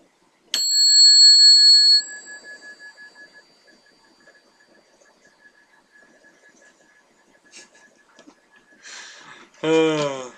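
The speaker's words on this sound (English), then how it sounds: "It's a bicycle bell." A single bright bicycle bell ring sounds, then fades into a long shimmering decay; a voice starts speaking near the end.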